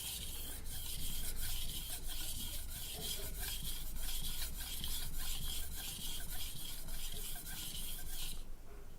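A chef knife is sharpened on a whetstone in steady, rhythmic scraping strokes, close and continuous for several seconds before stopping, with no talking.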